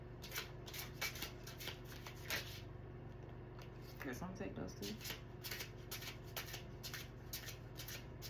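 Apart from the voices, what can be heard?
shuffling slick tarot cards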